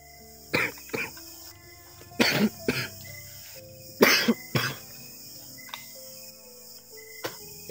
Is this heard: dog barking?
no